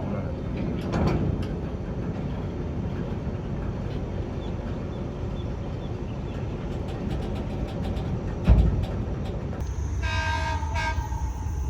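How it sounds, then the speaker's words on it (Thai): A Thai State Railway locomotive at Thung Pho station reverses to couple onto the carriages of train 778, giving a steady, continuous rumble with a horn-like tone sounding near the end. "รับรถที่ทุ่งโพแล้วกำลังถอย เพื่อต่อกับริ้วขบวน 778 ที่จอดในทางที่ 2"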